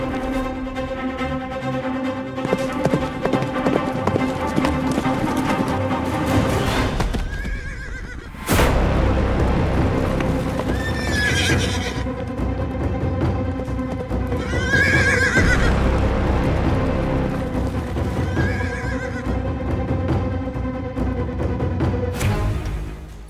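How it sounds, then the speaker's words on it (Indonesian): Horses of an ancient Indian army galloping, with repeated loud neighs and whinnies ringing out over continuous hoof clatter and a dramatic orchestral score. "Suara kuda"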